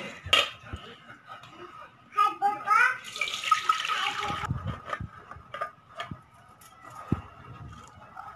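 Water splashes and trickles as it drains off rice soaked and washed for anarsa, with light clinks of a vessel and occasional handling knocks nearby.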